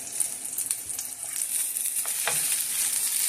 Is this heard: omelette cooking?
yes